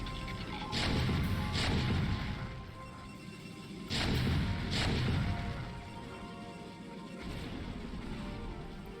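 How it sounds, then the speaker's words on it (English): Tank cannon fire hits a base in a real-time strategy video game, with heavy repeated volleys of crashing impacts and booms rolling in waves over a constant battle rumble. "Just Goons dying with every volley of tank fire"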